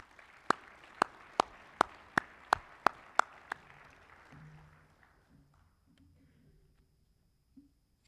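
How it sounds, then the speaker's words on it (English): Sparse, evenly spaced handclaps from a small group at an awards ceremony for bowl season volunteer winners, about nine sharp claps in a steady rhythm that fade out, then near silence with a few faint bumps. "Let's have a round of applause for this year's winners."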